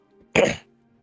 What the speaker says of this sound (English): Sorry, was coughing.